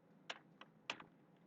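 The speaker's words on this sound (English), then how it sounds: "Nothing is working, so let's just type it out." Typing on a computer keyboard, a few sharp separate key clicks in an uneven rhythm, close and fairly quiet in a still room with no talking.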